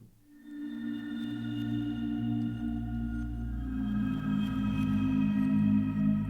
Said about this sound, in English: Just hear those little backward particle sounds there.